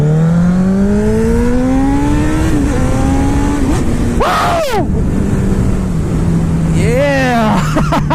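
A Honda Blade motorcycle engine on a ride, revving up and down through rising and falling pitch sweeps with gear changes and wind rush. The rider lets out a brief whoop partway through.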